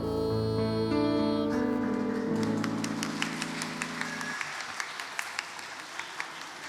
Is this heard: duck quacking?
no